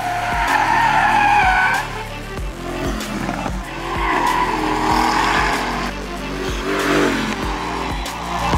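Mercedes-AMG GT 63 S on a race track, engine roaring and revving loudly as the car passes close, with repeated gear-change dips and tire squeal under hard driving, sustained throughout.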